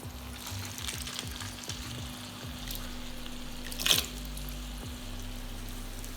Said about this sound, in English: I'm going to go ahead and take in our pasta, and we're going to put it directly into our pan